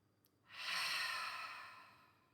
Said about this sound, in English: I'm going to be using an Ujjayi breath, or ocean breath.